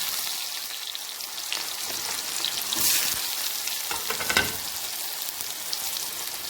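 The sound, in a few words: sautéing chopped onions with mustard seeds and cumin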